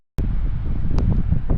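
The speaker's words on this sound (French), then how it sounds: "On n'entend pas quand tu parles, il y a du vent" Strong coastal wind at Haystack Rock, Oregon buffets the microphone in a steady, loud rumbling roar, with a few faint higher clicks on top.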